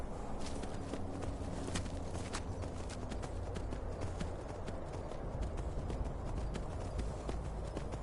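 Steady clip-clop of horse hooves at a walking pace in the video game Skyrim, rhythmic and fairly close, with no talking.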